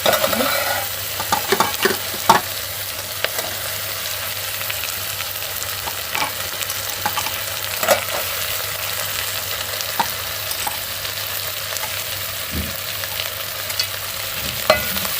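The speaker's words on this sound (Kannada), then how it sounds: "ಈಗ ಹಾಗಲಕಾಯಿ ಕೂಡ ಹಾಕ್ತಾ ಇದ್ದೀನಿ" Bitter gourd fries in a pan with coriander leaves, a steady close sizzle broken by scattered clinks and scrapes of a spoon stirring against the pan, with no one speaking.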